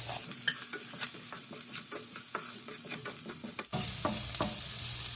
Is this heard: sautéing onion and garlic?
yes